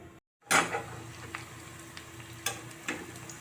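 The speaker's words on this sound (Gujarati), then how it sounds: "તો આ રીતે આપણે ધીમા ગેસ ઉપર કસોરીને તરી લેશું." Moong dal kachori frying in hot oil over a low flame, a steady close sizzle that swells after a brief silence, with a few light clinks of a utensil against the pan.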